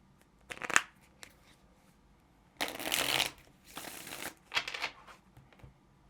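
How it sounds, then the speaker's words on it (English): Tarot cards being shuffled by hand, a short riffle, a pause, then a longer burst of rapid flicking followed by a couple of quicker shuffles, close and fairly quiet. "Let's get one more shuffle."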